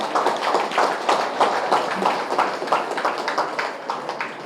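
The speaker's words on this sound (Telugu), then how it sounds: "ఒకసారి మనం ఇద్దరు హీరోలకి చప్పట్లు కొట్టాలి" An audience claps for two people at the first anniversary celebration of Trinetra Pyramid in Puttur, a brisk, steady round of hand claps from a modest group, fairly close and with no voices over it.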